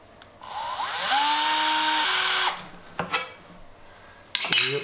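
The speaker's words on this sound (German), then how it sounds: "bohren das erste Löchlein" Power drill boring a small hole during a heated-bed cable repair on a 3D printer, a steady whining spin of about two seconds rising in pitch, followed by a few faint clicks and a short rattle.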